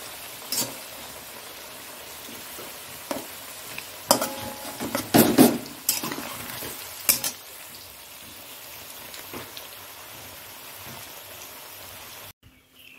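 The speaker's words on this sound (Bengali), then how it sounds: "আলুটা ভাজা হয়ে গেছে।" Potatoes fry in a pan with a soft, continuous sizzle. Around the middle come bursts of scraping stirring and clattering against the pan, close by, then a quieter sizzle follows, with no speech.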